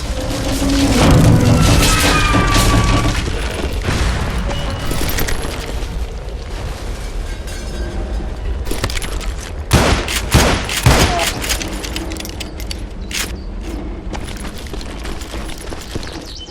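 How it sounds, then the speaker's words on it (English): A huge rumbling explosion roars up, followed by a long crackling, debris-filled aftermath with scattered sharp bangs and pops, loud and dense throughout. "My ears are still ringing from blowing up that bridge."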